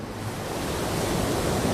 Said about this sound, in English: Todd Endress and Zane Hawley decide to catch some waves